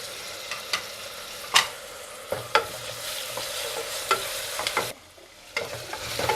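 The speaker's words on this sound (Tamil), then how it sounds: "வெங்காயம் தக்காளியில் நல்லா வதங்கிட்டுருக்கு." Onion and tomato sautéing in a pan for a green peas and potato kurma, with a soft steady sizzle and intermittent scrapes of stirring, close and moderately quiet, no talk.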